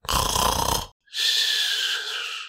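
Two long, rasping snores, each a loud drawn-out breath with a short silent gap between them, heard close with no talking.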